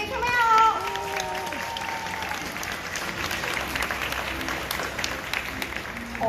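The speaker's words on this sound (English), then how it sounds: "Let's give them a hand" An audience at an aquarium sea lion show claps steadily for several seconds, a dense, even patter of applause from a crowd, with a voice briefly heard over it at the start.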